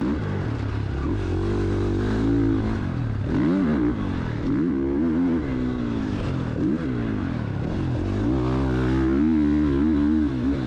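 Several dirt bike engines on a dirt bike track in open farmland, their motors revving and rising and falling in pitch continuously and loudly, layered together with no talk.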